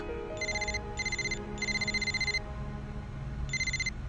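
A mobile phone rings indoors at a school in repeated electronic bursts, four short trilling rings with brief gaps, clear and fairly close over a low background hum.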